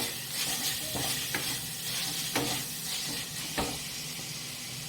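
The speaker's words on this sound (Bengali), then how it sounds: "আগে এই মশলার পেঁয়াজ কষা হোক" Onions fry with turmeric, salt and spices in a pan, a loud continuous sizzle broken by several sharp spatula scrapes and stirs spaced about a second apart, with no one talking.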